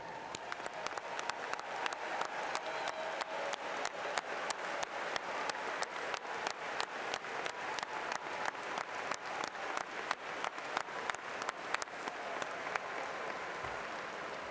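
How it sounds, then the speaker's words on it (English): Alumni in a large university graduation ceremony audience stand and applaud new graduates, a continuous, fairly distant wash of clapping with rhythmic, unison-like beats running steadily throughout. "I ask all UNI alumni in the audience to please stand and applaud the newest members of the UNI alumni family"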